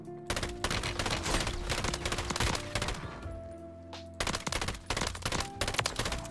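Rapid automatic gunfire rattles in bursts during a Call of Duty Warzone match, loud and dense with a brief lull midway before more shots resume.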